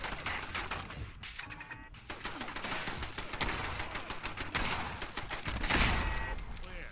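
Rapid bursts of gunfire from shooting at turrets in the video game Fallout 4, dense crackling volleys filling the whole stretch at a steady loud level, with a short lull near the start and a swell toward the end.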